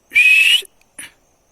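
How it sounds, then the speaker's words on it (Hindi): A person whistles in a dense forest in Uttarakhand, giving one loud, sustained high whistle followed by a shorter, fainter second note. "यहाँ पर मैं सीटी बजाने की कोशिश करूंगा तो वो भागेंगे"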